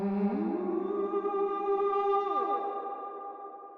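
A mixed vocal line carries a long, dreamy reverb tail with about 70 milliseconds of pre-delay, decay left at original and a little low cut, the sustained voice gliding in pitch and fading smoothly alone.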